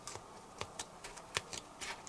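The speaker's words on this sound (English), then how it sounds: "And then connect them up with scissors." Small scissors snip through thin gasket material in a quiet series of light, irregular clicks and crisp cuts, close by with no voices.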